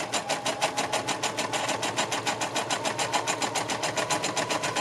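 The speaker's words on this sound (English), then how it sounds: "And I'm stitching just kind of over that straight line that I did earlier" A sewing machine stitches through fabric for a journal cover, its rapid, even chatter of needle strokes running in a steady rhythm close by, with no talking over it.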